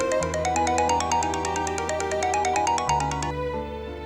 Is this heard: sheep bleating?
no